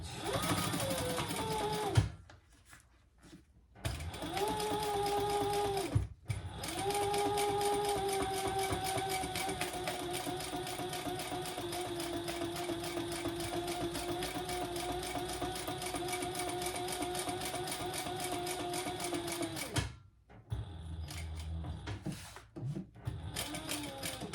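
A sewing machine topstitches a fabric fish pouch at an eighth-inch edge, running in long steady bursts with rhythmic needle clatter, a couple of short pauses between runs, close and loud.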